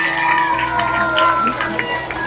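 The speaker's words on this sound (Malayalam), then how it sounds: "നല്ലൊരു കൈയടി കൊടുക്കുക." Audience at a school quiz final clapping and cheering, with children's shouts and whoops mixed into a dense, loud burst of crowd noise.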